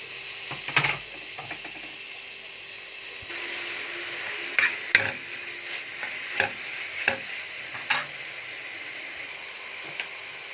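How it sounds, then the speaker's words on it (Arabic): Sausage and pepper sizzle in a pan over softened onion for a sausage pasta dish, a soft continuous hiss broken by occasional utensil taps and stirring knocks. "هنزل عليها بقى بالسجق وقرن الفلفل."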